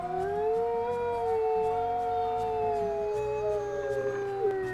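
Wolves howl together in the WolfQuest video game, several long sustained tones rising and falling and overlapping in a steady chorus that stays loud throughout.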